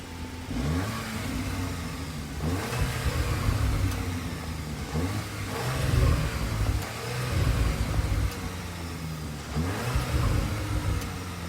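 Audi MK4 S3 with a quad-tip exhaust, repeatedly revved from idle, giving rising and falling engine roars in several rounds with a steady rumble between them, recorded close and without talk.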